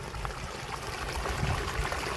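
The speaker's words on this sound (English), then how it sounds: "That is a lot of water right there." Steady rushing storm water pours and churns continuously into a yard drain catch basin, a dense, close hiss with low gurgling underneath.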